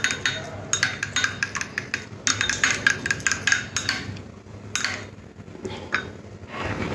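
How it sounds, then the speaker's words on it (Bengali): An egg is beaten with a little salt in a bowl, a rapid run of close tapping clicks of utensil on the bowl that pauses and resumes, with no talking. "ডিমটার মধ্যে অল্প একটু নুন ছড়িয়ে দিলাম, দিয়ে ভালো করে ডিমটাকে মিশিয়ে নিতে হবে।"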